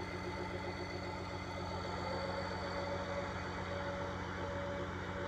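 A John Deere 750J-II bulldozer idles with a steady, even diesel drone, constant in loudness throughout with no talking.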